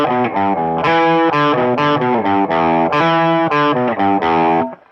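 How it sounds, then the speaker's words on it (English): A heavily distorted electric guitar on the bridge pickup plays a choppy, rhythmic riff of short repeated chords and notes, loud and close, ending abruptly. "So you're on the bridge, pickup in the selector, and you're on distortion."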